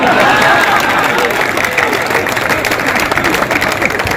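A large audience claps and cheers at a kavi sammelan poetry gathering in Patna, a loud, dense and continuous wash of applause with crowd noise throughout.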